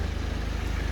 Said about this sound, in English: can you hear it vibrating a bit? It's got a bit of a vibration.